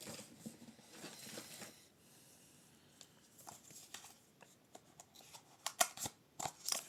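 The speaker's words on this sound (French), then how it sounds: "mais non, il faut que je prenne des ciseaux." Scissors snipping through a cardboard box, a series of quiet crisp snips and crunches, sparse at first and then quicker, close by with no talking.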